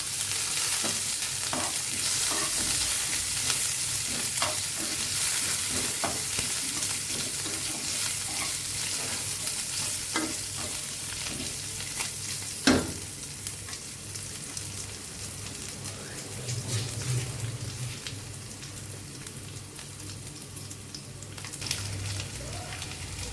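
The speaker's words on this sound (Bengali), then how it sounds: "পেঁয়াজটা লাল ভাজি হয়ে গেলে" Chopped garlic and onion fry in a pan for spinach ghonto, a steady close sizzle with repeated stirring scrapes and occasional louder clinks, no talking.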